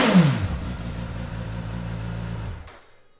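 A 2015 Suzuki GSX1000S motorcycle fires up with a quick crank and settles into a smooth, close idle, then cuts off and falls silent near the end.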